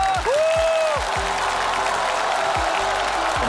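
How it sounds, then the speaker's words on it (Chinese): A studio audience at a Chinese variety show in Shijiazhuang applauds steadily and loudly, a dense wash of clapping that carries through the whole moment, with a brief rising musical tone near the start. "掌声再热烈一点"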